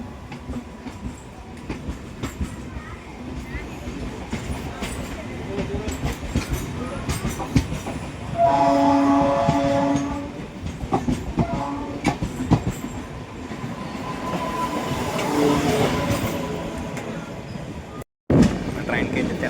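A passenger train on the Nalgonda to Tirupati route rolls along with rhythmic clickety-clack and a steady rumble, and a loud horn blares for a couple of seconds midway. People talk over the running noise.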